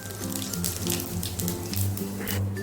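Cumin seeds crackle and sizzle in hot mustard oil in a wok, a busy, steady frying hiss with small pops close by. A low hum runs underneath and no one speaks.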